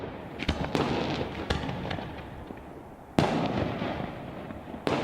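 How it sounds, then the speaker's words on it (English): Fireworks are launched at the Madera Speedway at a high school graduation celebration, with sharp cracks and booms landing one after another. Crackling and rumbling fill the gaps between blasts, which are loud and fairly close. "We've shot fireworks every year for the 14 years I've been here from the Madera Speedway, so we keep that streak alive right now."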